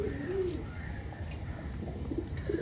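A pigeon coos softly a few times in a low, rounded, throaty rhythm under a constant faint background hum, fairly close and not loud.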